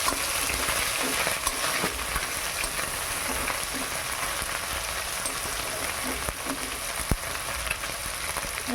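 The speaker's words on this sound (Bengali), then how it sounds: "এবারে চুনো মাছটা ভেজে নিই।" Small mourala fish fry in oil with a loud, dense, continuous sizzle, close up and unbroken, with occasional faint clinks underneath.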